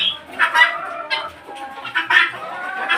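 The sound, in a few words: chickens clucking at poultry farm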